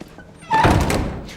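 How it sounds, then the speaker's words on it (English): A heavy cell door slams shut in a film scene, one loud, booming thud that rings briefly before fading. "So Celine is locked away until they decide what fate awaits her."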